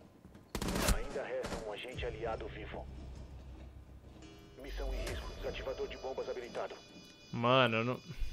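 Crossfire in Rainbow Six Siege on PS4, with bursts of gunshots from both sides cracking out in short volleys between stretches of excited talk; someone speaks over much of the firing.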